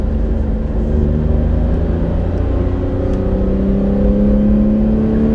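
A 1991 Honda Beat roadster driven with its top down, engine droning steadily close by with rising harmonic tones as it accelerates, continuous and loud without talk.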